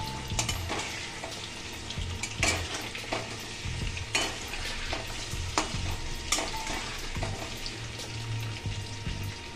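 Raw hilsa fish in mustard oil crackles and sizzles quietly in a pan, with scattered clicks and utensil scrapes over a steady hiss, close and faint with no talking.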